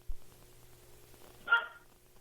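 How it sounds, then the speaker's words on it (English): Guard dogs give a short bark, a single brief, fairly faint yelp heard at some distance in an otherwise quiet room. "Some dogs are barking, and my guard dogs are responding."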